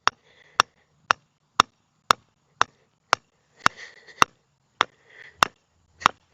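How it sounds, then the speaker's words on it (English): A hammer strikes tent stakes into the ground outdoors, about a dozen sharp, evenly spaced knocks roughly every half second, loud and close with faint rustling between blows. "hammer in those stakes"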